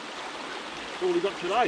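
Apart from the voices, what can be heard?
creek flowing water in forest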